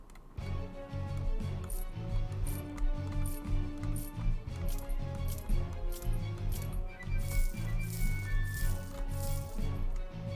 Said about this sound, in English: So each coin stack size has a different pickup noise.